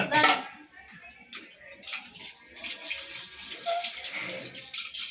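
Tap water runs and splashes as someone washes another person's face and hands, a steady close wash with small bursts of splashing while voices talk over it.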